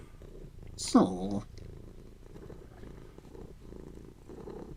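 A cat getting attention lets out a short, loud trilling vocal burst, then settles into a faint, low rumble while a person speaks quietly nearby.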